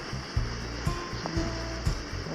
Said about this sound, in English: This is Gibbs Stream or Gibbs Creek.